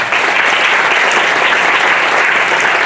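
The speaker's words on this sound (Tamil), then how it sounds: "நல்ல ஒரு கைத்தட்டை கொடுங்க" Loud, dense applause from an audience at a school ceremony at a Murugan education centre in Malaysia, sustained and steady throughout without any voice over it.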